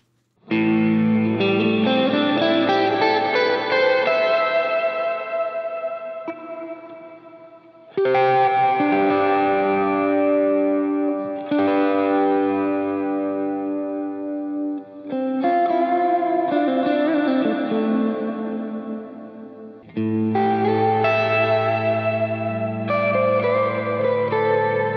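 Distorted electric guitar played through a Line 6 POD GO reverb with the crossover set to 8K, sounding several long, sustained chords and phrases, each ringing out into a wide, washy ambient tail.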